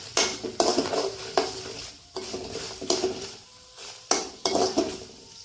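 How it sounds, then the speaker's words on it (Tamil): Mustard seeds, sesame, peanuts and dried chillies dry-roasting in a pan for bitter gourd thokku, with a series of sharp spatula scrapes and metallic clinks in an uneven rhythm over a faint background, close up and with no talk. "கடுகு, எள்ளு, வேர்க்கடலை, மிளகாய் வத்தல் எல்லாத்தையும் போட்டு ஒரு வறுத்துக்கலாம்"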